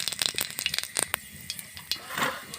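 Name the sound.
spices frying in hot oil for tempering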